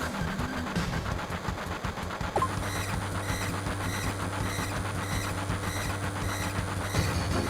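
A moving train in Final Fantasy 7 rumbles steadily throughout, with a rhythmic clickety-clack of wheels over rails and a sustained low mechanical drone, heard alone at a loud, even level.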